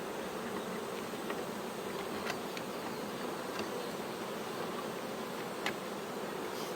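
Honeybees drone around an opened hive while a colony is split into a new box without a queen cell, a dense, even buzz that fills the air continuously, with occasional close individual bees passing and faint knocks of hive frames.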